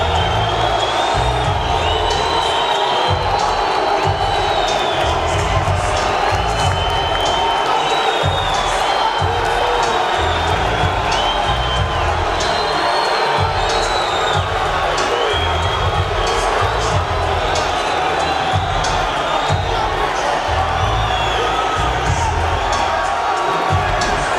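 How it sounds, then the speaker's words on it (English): A boxing arena crowd roars and cheers continuously as a fighter enters the ring, loud and dense throughout, with scattered shouts and whistles over the din and a commentator talking over it. "That crowd reaction will fuel him even more tonight."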